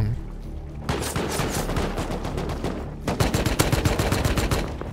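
An AK rifle in the video game Rust fires rapid automatic bursts, one string near the start and a denser, louder volley after a short pause, sharp and close with no talking.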